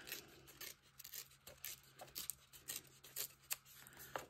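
Sheets of paper torn by hand for an art collage, a string of short, dry rasping rips with brief pauses between them, faint and close, with no talking.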